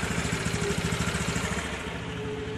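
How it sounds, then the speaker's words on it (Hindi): A motorcycle or scooter engine idles steadily right after a kick start, a low, even putter with a regular rhythm, close by and moderately loud, with no voices. "तो आप देख सकते हैं कि यहाँ इंजन स्टार्ट हो गया है"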